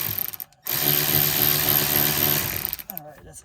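A small power ratchet spins out a seat bolt in a 2010 BMW 128i, giving one loud, continuous mechanical whir of about two seconds that starts and stops abruptly, with short quiet gaps before and after.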